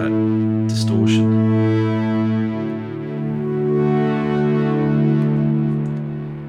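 Distorted synth pads from a u-he RePro-5 run through a Lyrebird echo, thick buzzing sustained chords with a couple of brief bright swells early on, then a held chord that changes and lingers.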